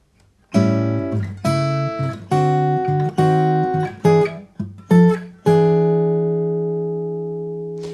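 Blues accompaniment guitar chords, including a dominant seventh, ring out one after another at a measured pace, each struck and left to decay, ending on a long, fading chord.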